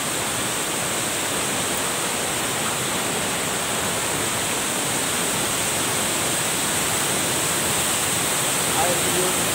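A steady, loud rush of falling water at Batu Alamu waterfall, a continuous broadband roar with no pauses or changes throughout.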